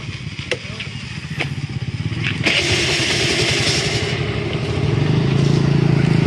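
A motorcycle engine cranks and starts at close range, with a few sharp clicks and clatters before it catches, then settles into a steady rumbling idle that grows a little louder; a voice talks briefly at the start.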